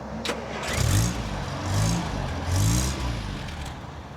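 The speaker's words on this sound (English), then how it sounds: "I'll turn the car on, let it become fully warm" A car engine starts and settles into a steady warm-up idle before a long Arctic drive, with low rumbling pulses swelling and easing every second or so, close and fairly loud.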